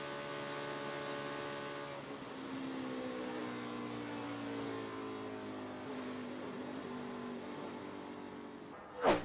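A NASCAR stock car engine drones at high speed with a sustained, slowly shifting tonal roar, followed by a brief sharp burst at the very end.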